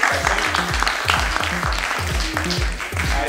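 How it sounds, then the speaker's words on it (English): Audience clapping for a panel at a nursing conclave in a Mumbai hotel ballroom, a moderate patter of hands mixed with a repeating low tonal sound underneath, without a clear break. "Let's have a huge round of applause for this stellar panel"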